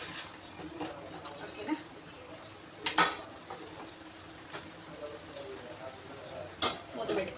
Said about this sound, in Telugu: ఎగ్స్ అయితే వేసుకుంటున్నాను. ఇలా వేసుకొని ఇలా కలుపుకోవాలండి.